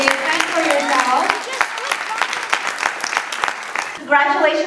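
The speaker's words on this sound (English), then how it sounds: "a big round of applause for everyone who's up here on stage and for yourselves" Audience applause fills the hall at the close of the Silicon Valley Awards 2014 ceremony, a dense wash of clapping that runs throughout, with voices talking over it and a brief swell near the end.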